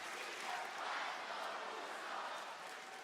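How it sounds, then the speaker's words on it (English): A packed wrestling arena crowd in Providence roars and chants, a dense, steady wash of massed voices at fairly even loudness, heard from within the crowd. "Damn, this crowd is insane."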